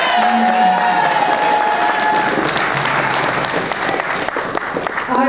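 An awards-show crowd applauds and cheers for Dr. Savior. Continuous loud clapping runs under whoops and shouting voices, with a host's voice briefly over it near the end.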